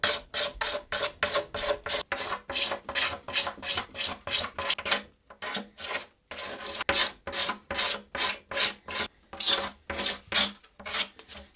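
A razor blade scrapes lacquer off a guitar body in quick, rhythmic rasping strokes, close and dry, with a short pause partway through before the scraping resumes.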